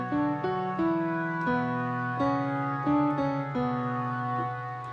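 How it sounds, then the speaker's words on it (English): Sustained chords from a grand piano layered with a soft synth pad, stacked together on one MIDI track in Ableton Live, change every half second or so in a steady, even progression. "it's playing the grand piano as well as the Morgan pad because it's both stacked into one MIDI track"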